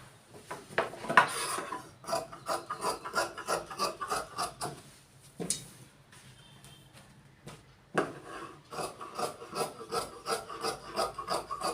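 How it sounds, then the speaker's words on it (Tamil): Scissors cutting medium-fleet men's pant fabric on a tailor's cutting table, a steady run of close rasping snips and rubbing strokes with a short pause midway, no talk. "மீடியம் பேண்ட்டு கொஞ்சம் லூஸாக போடுறாங்க, அவங்களுக்காக பேண்ட் வெட்டிகிட்டு இருக்கேன்"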